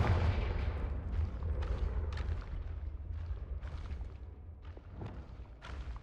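Repeated booming blasts of the Confringo spell in Hogwarts Legacy, a series of deep, rumbling thuds with fiery crackle rolling one after another under continuous low game ambience.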